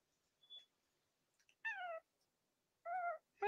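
A male cat with black toe pads meows three times, close and clear, each call a separate rising-and-falling cry after brief faint rustles, the last cut off at the end.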